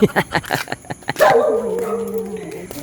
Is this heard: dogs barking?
yes